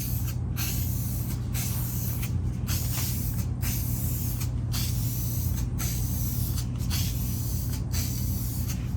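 A spray paint can hisses in long continuous bursts over door hardware, each spray broken by brief pauses as the nozzle is released and pressed again, loud and close with no one speaking.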